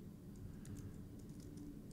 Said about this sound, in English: we're going to create a new tab and we're going to type in